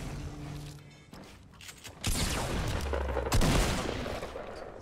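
Bursts of video game gunfire crack and boom in quick succession, loud and close, with a sustained rumble partway through.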